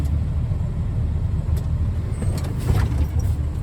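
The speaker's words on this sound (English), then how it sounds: "I will go forward a little bit, and I will engage my brakes" Truck rolling forward slowly with a low steady engine rumble during an in-cab inspection, with a short brake hiss near the end as the service brakes engage.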